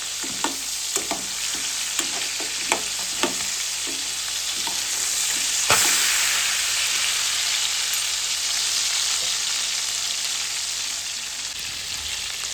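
Crabs frying in a pan give off a steady broadband sizzle, punctuated early by several sharp clanks of stirring and one louder rush midway, with no voices.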